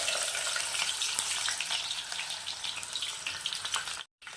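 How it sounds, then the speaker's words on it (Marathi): Finely chopped onion frying in hot oil for a Maharashtrian-style mutton curry, a steady, loud, close crackling sizzle that runs continuously and cuts out briefly near the end, with no voices. "आता तेल तापलं पण आपण कांदा टाकू हे बघा एक बारीक चिरलेला"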